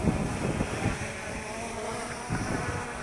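Wind gusting outdoors during the flight of an MJX Bugs 2 GPS brushless drone, a steady broadband rush with low buffeting swells near the start and again near the end, fairly loud and alone.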